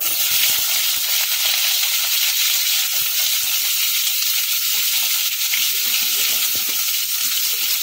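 Potatoes frying in hot oil over a tempering of burst green and dried chillies, a steady dense sizzle filling the whole clip with occasional soft pops and crackles, close and loud, no voices.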